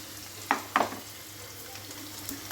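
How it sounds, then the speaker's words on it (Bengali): Lentil dumplings, jackfruit seeds and potatoes are being sautéed with tempering spices in a pan. A low background hiss is broken by two quick close stirring scrapes near the start, then only softer faint rustles. "বড়ি কাঁঠালের আঠি আলু এগুলো সব কিছু ফোড়ন দিয়ে কষিয়ে নিচ্ছি"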